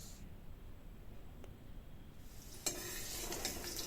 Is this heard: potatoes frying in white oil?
yes